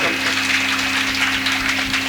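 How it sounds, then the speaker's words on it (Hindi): An audience at a Hindi religious discourse gathering in Gopalpur claps in a brief, even burst of applause, a dense wash of hand claps over a steady electrical hum. "आप लोग दीदी जी के नाम पर एक बार ताली बजा दीजिए"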